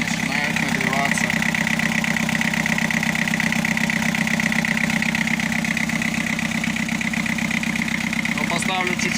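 A Mitsubishi Canter engine freshly overhauled runs at idle, hard and a little rough, with a steady, close, continuous clatter and hum that never changes level.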